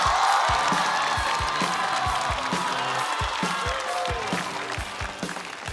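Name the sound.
audience applause welcoming a stand-up comedian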